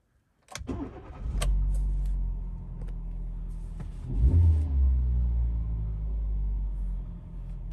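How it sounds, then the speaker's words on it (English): A Hyundai i20 1.2 engine cranks and fires up, revs briefly, then settles into a steady low idle, loud and close. "Starts up and ticks over nicely."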